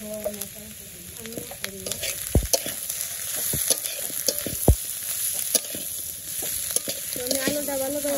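A spiced mixture with salt, turmeric and chili sautéing in a pan in a village kitchen, steady frying hiss broken by irregular scraping and knocking stirs, close by and without talk.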